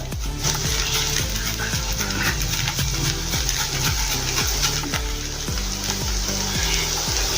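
Onions, green chili and grated ginger fry in a pan for a kachori filling, a steady loud sizzle with irregular scraping and clinking as the mixture is stirred throughout.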